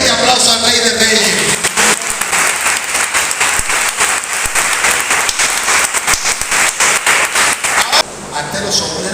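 A church congregation breaks into loud, dense applause during a sermon, the clapping sustained and close, with voices mixed in and a brief drop in intensity near the end.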